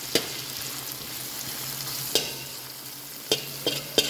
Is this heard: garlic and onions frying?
yes